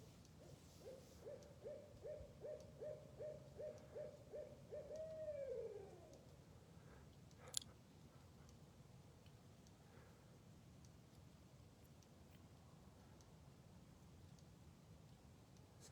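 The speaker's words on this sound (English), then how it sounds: "That's a real barred owl." A barred owl calls outdoors behind a nature center: about ten evenly spaced, rhythmic hoots that rise into a drawn-out descending call, moderately close. Quiet ambience follows.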